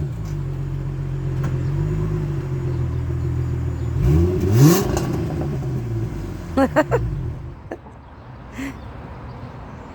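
A Mustang fitted with a new muffler and a changed air filter idles with a low steady rumble, then revs up once in a rising swell and drops back, with a few knocks afterward.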